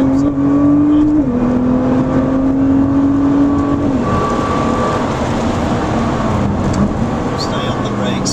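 Nissan GT-R R35 engine accelerating on a racetrack, a loud sustained engine tone climbing in pitch, dropping at a gear shift and climbing again, with an instructor talking over it.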